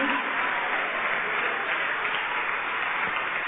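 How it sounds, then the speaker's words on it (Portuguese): A church congregation claps together in a sustained burst of dense, loud applause that fills the room, with a faint voice underneath. "A igreja aplauda mesmo."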